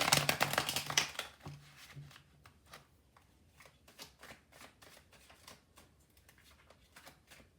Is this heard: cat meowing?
no